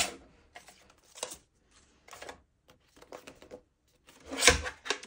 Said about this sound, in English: Just start to trim a little bit off the edge.